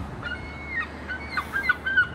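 Birds call outdoors in Ramsgate, giving several short honking, goose-like cries at moderate distance over a steady background rumble.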